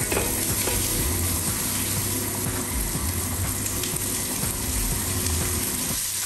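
Meat skins frying in a hot pan give a loud, steady sizzle and crackle with faint stirring or shifting sounds. It runs continuously and close-up, with no talking.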